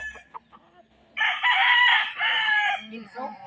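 A pure red Kelso gamefowl rooster gives a loud, drawn-out crow close by, with soft clucks before and after it.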